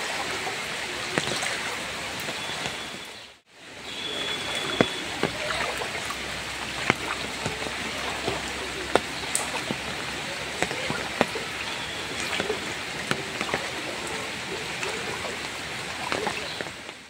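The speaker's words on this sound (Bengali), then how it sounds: "পুরো এখানে এই এক হাঁটু জল।" Knee-deep floodwater covering a village road rushes and splashes in a steady, loud wash with small sharp drips and plops throughout, briefly dropping out once early on.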